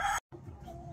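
A Rhode Island Red rooster gives a brief, faint crow or cluck, cut off abruptly and then followed by a low, quiet farmyard background.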